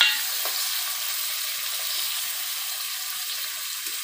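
Onions and tomatoes frying in a pan for a fish curry, a steady, close, hissing sizzle that holds evenly throughout with only faint stirring.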